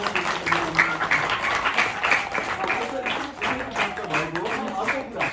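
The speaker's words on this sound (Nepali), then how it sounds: "उहाँलाई फेरि पुनः एकचोटि जोरदार तालीले उहाँलाई सम्मान" Audience applause at a school aid distribution event, a dense steady patter of many hands clapping throughout, with a voice talking over it.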